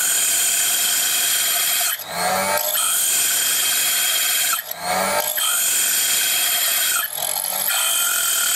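A high, steady whine of a small drill bit boring through glass runs continuously, broken three times by brief grinding, scraping bursts as the bit bites in.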